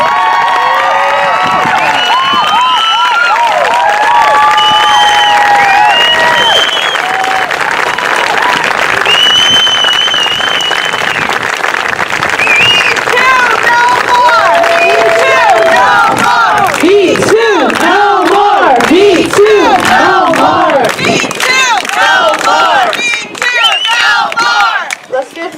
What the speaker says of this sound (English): Miss Jackie Cruz another round of applause.